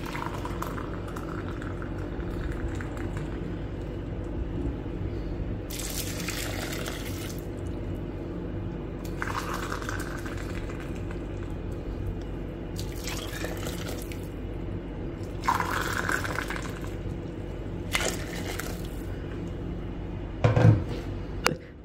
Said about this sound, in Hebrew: אני מוסיפה 3 כוסות מים רותחים